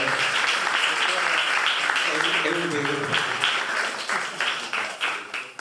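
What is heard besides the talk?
applause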